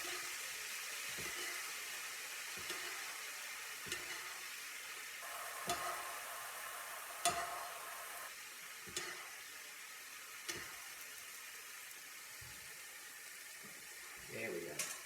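Butter sizzles and crackles steadily in a hot pan while a ribeye steak is basted, with soft spoon scrapes and stirring taps recurring every second or two, close and continuous.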